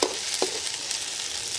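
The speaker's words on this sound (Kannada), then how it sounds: "ಸೋ ಇದನ್ನು ಫ್ರೈ ಮಾಡ್ಕೋಬೇಕು ಚೆನ್ನಾಗಿ ಹುರಿದ್ರೆ ಟೇಸ್ಟ್ ಬರುತ್ತೆ" Masala fries in a pan over a wood-fired stove in a hut kitchen, a steady, hissing sizzle with a couple of quick scraping stirs early on, close and moderately loud, with no talking.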